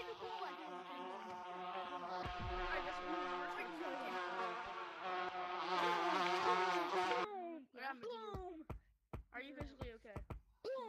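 Bees buzz loudly and close, a dense droning hum that holds for several seconds and then breaks into shorter bursts, with voices talking at the same time.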